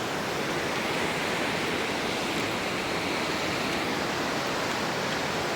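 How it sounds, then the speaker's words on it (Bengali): A mountain river's current flows beside a railway line in a hilly valley, a dense, steady broadband rush of water that stays constant and fairly loud throughout, with no voices. "এখানে কিন্তু পাহাড়ি নদীর জলের স্রোত দেখা যাচ্ছে"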